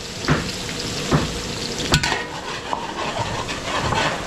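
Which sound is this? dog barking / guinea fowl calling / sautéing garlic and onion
sautéing garlic and onion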